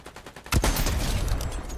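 A Fortnite sniper rifle gunshot in the video game, a sudden loud blast after quieter rhythmic background noise, followed by a dense, sustained rumble and crackle lasting over a second.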